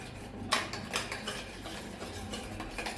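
A spoon stirs an egg and milk mixture in a bowl, giving quick light clinks and scraping taps against the sides, close and fairly quiet, with no talking.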